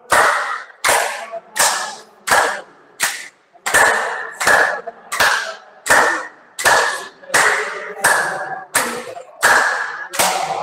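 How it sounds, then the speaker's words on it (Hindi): A group claps in unison at a yoga session, about fifteen sharp, evenly spaced claps ringing out in a steady rhythm with nothing else underneath. "चलिए बजा लेते हैं 15 बार तालियां अभी।"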